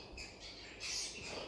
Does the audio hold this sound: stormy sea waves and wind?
no